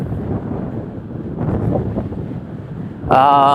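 Strong wind buffeting a microphone outdoors, a loud low rumbling roar that swells and eases over a few seconds before a sudden harsh tonal burst at the end.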